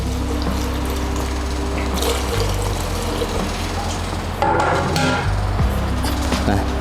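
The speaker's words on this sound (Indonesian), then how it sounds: "Ini kita tuangkan thinner sini biar mudah untuk menuangkan" Tanuri Hi Gloss thinner poured from a container, a steady liquid gush with a low droning hum beneath and a brief splashy surge midway.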